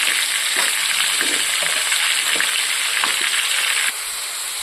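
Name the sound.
vegetables added to hot spiced oil, frying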